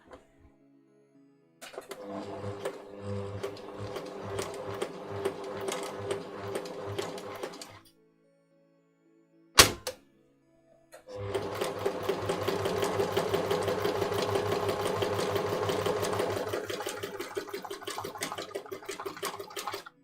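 A sewing machine runs zigzag stitches in white thread on a Gryffindor kid's jacket. It makes two steady, close runs of rapid stitching, separated by a pause with a single sharp click.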